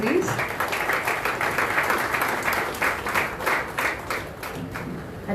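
An audience at a jersey unveiling event applauds in sustained, lively clapping throughout, with faint voices mixed underneath.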